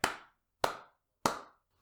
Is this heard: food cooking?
no